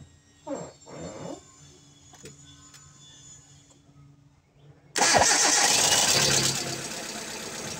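A few faint voices, then a Hyundai Getz engine with a defective idle-up cranks and catches with a sudden roar, settling into a loud, steady idle close by.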